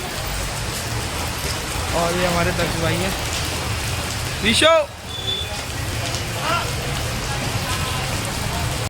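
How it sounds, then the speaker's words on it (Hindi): Heavy rain pours down in a dense, steady hiss close by, while someone talks over it and a brief tonal chirp cuts through midway. "तेज़ बारिश हो रही है।"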